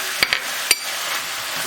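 Stirring keema mince with salt, pepper, chili flakes and garam masala, three sharp metallic clinks of a spoon against the pan early on, then a soft sizzling scrape.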